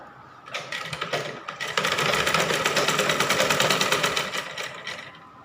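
An electric sewing machine stitches blouse fabric, a close, fast rhythmic clatter of the needle that builds up, runs steadily for a few seconds and then slows to a stop, with no speech.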